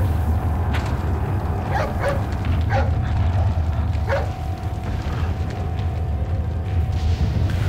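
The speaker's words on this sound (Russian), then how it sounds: "что это за собака?" Dog in the video game Resident Evil 4 barks and yips in short, spaced bursts over a steady low background drone, with a faint sustained tone running beneath, moderately close.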